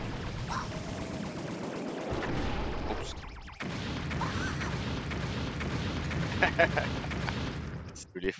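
A Bowser Jr. airship blows up in a Super Mario game, in World 7's Meringue Clouds stage: a dense run of booming, crackling explosions with a brief dip midway, loud and sustained, with a voice talking over it.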